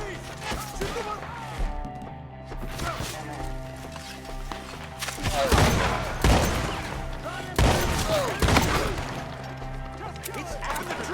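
Rapid gunfire during a Red Dead Redemption 2 shootout, with bursts of overlapping shots and crashing impacts, loud and dense, mixed with shouting voices.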